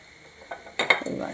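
Potato curry in a pan is stirred right after cumin powder goes in: a few close scraping strokes over a soft sizzle.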